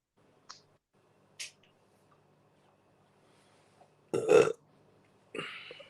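Two loud burps from a person on a live online panel, the second long and guttural, set among a few faint clicks and small mouth noises in an otherwise quiet room.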